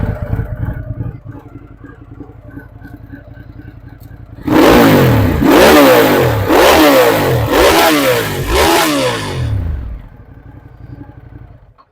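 A Ducati Diavel Carbon motorcycle fitted with a Zard exhaust idles with a low burble, then blips through four or five loud, close throttle revs, each rising and falling, before dropping back to idle.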